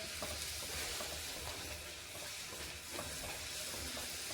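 Puri dough sizzles in hot oil, a steady, close, broadband hiss and crackle of frying that holds without pause.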